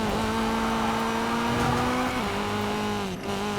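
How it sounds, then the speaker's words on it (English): Honda Civic engine in Need for Speed Payback holding a steady droning rev through a corner, pitch dipping slightly and then dropping briefly near the end, with faint tire noise underneath and no talk. "You can hear it rev up when I'm turning around the corner."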